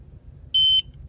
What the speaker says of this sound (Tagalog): pagka pinagsabay nyo ito ng pindot at narinig nyo na yung isang beep